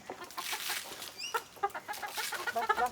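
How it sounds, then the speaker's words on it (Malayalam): Free-range native country hens cluck while feeding on scattered rice, with soft irregular clucks and short calls from several birds close by, quiet overall and without voices. "നമ്മുടെ കയ്യിലുള്ളത് ഫുള്ള് നാടൻ കോഴികൾ തന്നെയാണ്"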